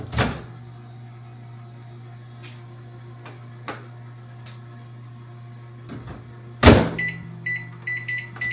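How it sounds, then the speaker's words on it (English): A microwave oven hums steadily while heating homemade vegetable soup, a constant low drone with a few soft clicks, then a door clunk and a run of electronic beeps near the end. "I just have to put it in the microwave"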